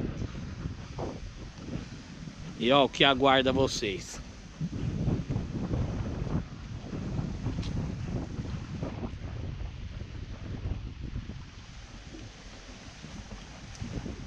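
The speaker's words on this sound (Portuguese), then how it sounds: "está um vento muito forte, que está vento de sul" Strong south wind buffets the microphone during a boat trip off Paraty, a continuous rough roar with rumbling gusts and water motion, while a voice speaks briefly over it early on.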